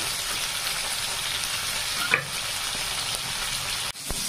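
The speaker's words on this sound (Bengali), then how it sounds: "দেখতেই পাচ্ছেন আমার পটল ভাজাটা অলমোস্ট হয়ে গেছে।" Pointed gourd (potol) frying in oil in a pan, a steady bright sizzle throughout, with a brief clink near the middle and a soft knock near the end.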